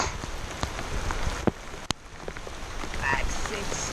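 Rain falls steadily, recorded close up on a GoPro, a dense hiss of drops on surfaces with a few sharp knocks and taps standing out near the microphone.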